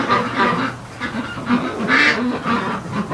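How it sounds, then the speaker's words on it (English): A small Muscovy duck and other breeding ducks call noisily, close by and loud, with overlapping rasping quacks and honks that run on without a break at night in freezing weather. "And there's this little Muscovy here."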